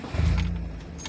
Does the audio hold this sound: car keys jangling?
yes